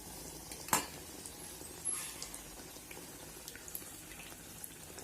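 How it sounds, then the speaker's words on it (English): Biscuit rotti, a Dakshina Kannada snack, frying in hot oil with a quiet continuous sizzle, broken by one sharp clink early and a softer knock later, all faint and close. "Let them be a little crisp on both the sides before you can pull them out of the oil."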